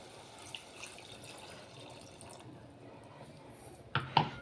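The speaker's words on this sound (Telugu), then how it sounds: "ఇక మిక్సీ జార్లో నీళ్ళు పోసేస్తున్నాను" Faint running water trickles steadily into a mixer jar, followed by a couple of louder clinks and splashes at the end.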